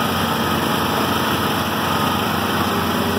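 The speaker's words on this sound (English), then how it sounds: "They're running right now, but that's a Kubota 21-inch push mower with a Kawasaki." A Kubota 21-inch push lawn mower with a Kawasaki engine runs steadily close by, a loud continuous high-pitched engine drone with no talk.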